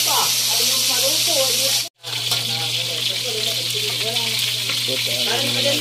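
Fish frying in a pan with a steady, close sizzle and crackle that runs throughout, broken by a brief silent gap, while a voice talks over it.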